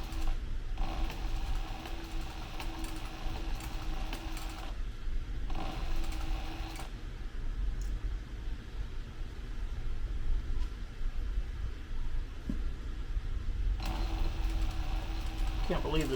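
A sewing machine stitches a backpack in steady whirring runs with brief pauses, the close mechanical chatter continuing under someone talking.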